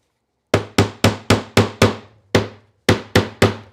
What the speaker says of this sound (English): I got this little baby hammer here.